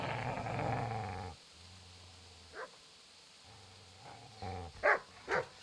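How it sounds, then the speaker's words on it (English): A dog in the medieval game Kingdom Come: Deliverance rumbles a low, steady growl, goes quiet, growls again, then lets out two loud, sharp barks close by. "Get away, you mutt!"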